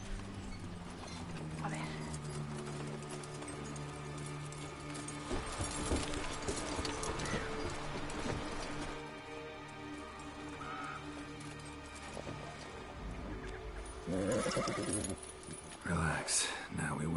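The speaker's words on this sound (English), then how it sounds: "Me encanta el caballo." A horse in The Witcher 3 clip-clops along with steady hoof beats and jingling tack, under someone speaking quietly in Spanish, with a louder burst of movement near the end.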